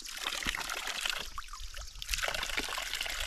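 Cold water trickles steadily from a village tap, a continuous close splashing and dribbling that thins briefly before returning to a fuller flow.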